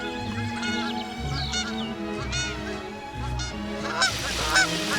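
Canada geese honking loudly as a flight arrives, repeated overlapping calls from several birds, near and clear, with a steady hum of city background beneath.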